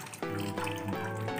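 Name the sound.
water poured onto cactus potting medium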